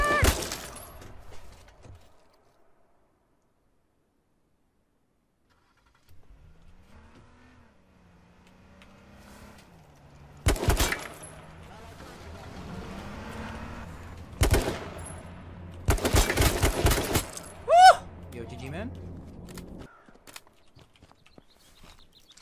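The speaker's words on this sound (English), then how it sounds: "And now we shoot at driving away Jeep." Video game gunfire aimed at a jeep driving away, heard as several loud, sharp bursts of shots separated by quieter stretches with a low engine hum underneath.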